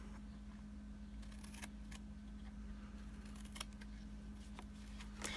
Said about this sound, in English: Turn it around, cut on the score line, take a little smidge off that corner.